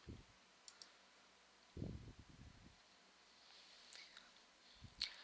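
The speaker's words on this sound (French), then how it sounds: "je clique sur la page que je souhaite éditer" Computer mouse clicks while editing a web page, a few faint, sharp clicks scattered over quiet room noise, with soft handling rustle.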